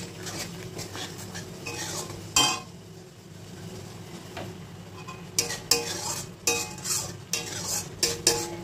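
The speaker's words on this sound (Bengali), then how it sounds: "এটাকে আমি 2-3 মিনিট ধরে কষিয়ে নিলাম মশলাটাকে।" A spoon scrapes and clinks against a pan while a masala of cashew, sour yogurt and peanuts cooks down with a soft sizzle, strokes coming in irregular bursts over a low, steady frying hiss.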